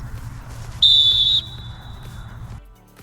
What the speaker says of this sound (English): You're also gonna blow your whistle loud and clear while you do this.